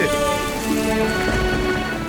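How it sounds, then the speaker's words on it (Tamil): Rain falls steadily in an animated children's episode, a dense, continuous hiss of drops throughout with a faint tonal background beneath it. "பாத்தீங்களா, மழை வந்துருச்சு, மழை வந்துருச்சு."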